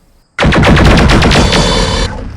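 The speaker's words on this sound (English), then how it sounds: "The Jenner fires everything." A BattleTech Jenner mech firing lasers and missiles in a game, a loud, dense burst of rapid, rattling shots lasting under two seconds before cutting off.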